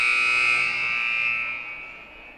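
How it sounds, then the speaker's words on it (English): A shrill electronic buzzer sounds in one sustained, steady blast at a women's college basketball home game against Iowa Central, heard alone and fading slightly at the end. "First buzzer sounds."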